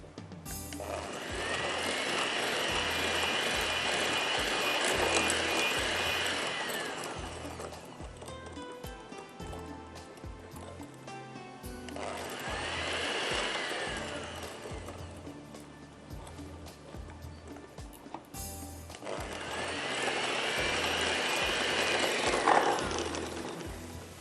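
An electric beater whirs steadily in three long runs separated by short pauses, with a rough, buzzing drone and rattling as it churns a mixture in a kitchen while turnip paratha ingredients are prepared.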